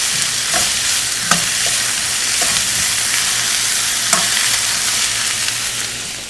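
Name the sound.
onions, garlic and ginger sautéing in a pan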